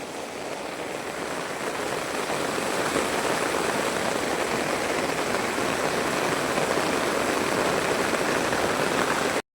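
Heavy rain pours steadily during a downpour that floods the area with water, a dense, even roar of drops that holds at the same loudness for the whole stretch with no voices.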